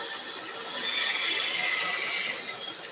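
Single long stroke of a tool edge across a sharpening stone to raise a burr, a close, loud, bright scraping hiss that rises, holds for about two seconds, then cuts off.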